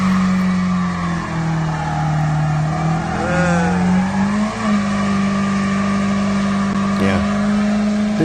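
A car doing a line lock burnout, its engine droning loud and steady while the rear tires squeal and screech continuously, with voices talking over it.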